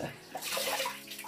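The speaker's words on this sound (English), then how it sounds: "You can just, you know, wash it off with water." Water splashing as a face is washed clean after an exfoliating skincare treatment, a brief close burst of wet sloshing and dribbling, quiet overall with no voices.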